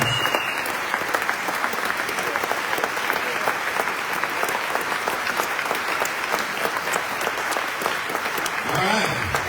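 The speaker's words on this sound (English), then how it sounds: "Everybody, please, big round of applause. Little standing ovation for Abby." A crowd at an annual meeting rises in a standing ovation, dense sustained clapping filling the room for nearly ten seconds, with a voice briefly heard at the start.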